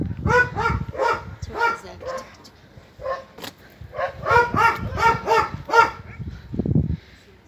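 Dogs bark repeatedly in short bursts in the countryside near Gölköy, Bolu, on a November day, with a wood stove burning nearby. Barks come in clustered volleys, fairly close and moderately loud.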